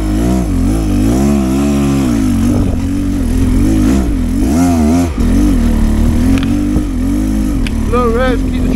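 A 2023 Beta XTrainer enduro motorcycle rides at low revs on hard enduro terrain in south Wales, its engine loud and close with a chugging note that wavers up and down and blips briefly near the end.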